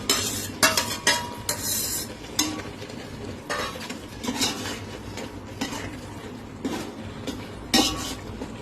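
Chopped green onions go into a pan for Rajkot-style chapadi undhiyu and get stirred, with repeated scraping and clinking of a spoon against the pan over a soft background sizzle, close and fairly loud.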